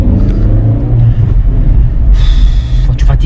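A car engine strains and hums under load while driving, a loud, close, low drone that keeps running while a person talks over it.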